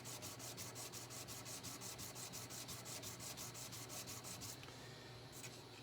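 Steady, rhythmic rubbing as frets are polished on a Martin dreadnought acoustic guitar, a soft close scrubbing that repeats in even strokes and runs on alone without voices.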